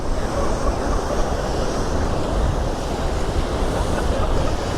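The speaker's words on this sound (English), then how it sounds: "Look at these waves." Ocean waves breaking on a rocky Nova Scotia shoreline make a loud, steady, broadband wash of surf up close, continuous with no distinct breaks and no talking.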